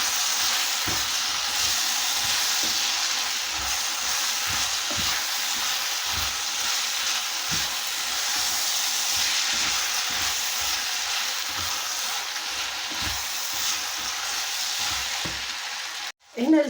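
Onion frying in a pan for a Moroccan mango and chicken pastilla, a steady close sizzle with soft stirring scrapes throughout and a brief clatter at the very end.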